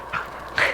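A dog lets out two short, high whines, a faint one followed by a louder one, close by with quiet background.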